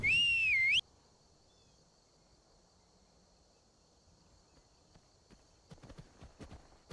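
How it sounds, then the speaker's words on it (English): In Skyrim, a sharp rising-falling whistle calls a horse, followed by a long quiet stretch with a faint steady tone, then soft hoof clops and footsteps near the end. "Let's see if I can call my horse from this distance."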